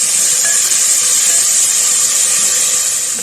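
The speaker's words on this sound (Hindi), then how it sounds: "लहसुन अदरक को इसमें मैंने थोड़ा सा फ्राई किया है।" Garlic ginger paste frying in hot oil for chicken chopsuey, a loud, steady hiss that holds constant without breaks or speech.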